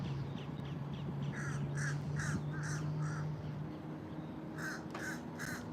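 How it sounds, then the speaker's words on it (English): A crow caws in repeated bursts of three or four at sunrise at Disney's Contemporary Resort, moderately distant, over a low steady hum of outdoor ambience. "We got a very active bird this morning."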